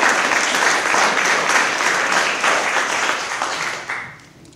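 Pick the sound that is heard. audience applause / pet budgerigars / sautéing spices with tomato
audience applause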